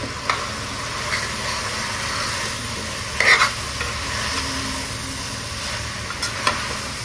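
Vegetable pulao with garam masala, coriander powder, vegetables, coriander leaves and mint being stirred in a pan, a continuous close scraping and shuffling with a soft sizzle beneath and a few sharper knocks of the spoon, no talk.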